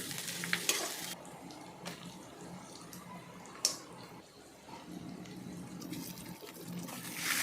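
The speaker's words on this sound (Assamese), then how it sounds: "নহৰুখিনিও লগত ভাজি দিব লাগে।" Garlic sizzles steadily in hot oil with onions, punctuated by a few sharp clinks and scraping stirs close by.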